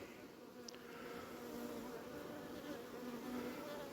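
Bees buzz in a continuous, faint hum as they fly around their beehives while hornets hunt them, a steady insect drone with a few louder passes close by and no voices.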